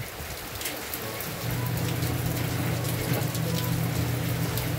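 Steady rain pours down, a broad hiss that thickens after the first second and keeps going at an even level, with a low rumbling layer underneath.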